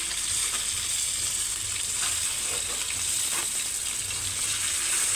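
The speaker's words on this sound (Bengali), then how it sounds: "এবারে ফ্রাই প্যানটাকে একটু নেড়েচেড়ে দিতে হবে যাতে সব জায়গায় তেলটা সমানভাবে ছড়ায় এবং মাছগুলো খুব সুন্দরভাবে ভাজা হয়।" Koi fish frying in plenty of oil in a pan, a loud, continuous close-up sizzle and crackle, with faint scraping as the pan is stirred and no talking.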